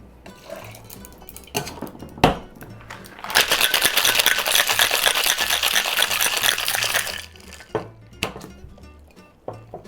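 A cocktail of pear puree, gin and simple syrup is shaken hard in a shaker, a dense burst of rattling ice lasting several seconds, with scattered clinks and knocks before and after.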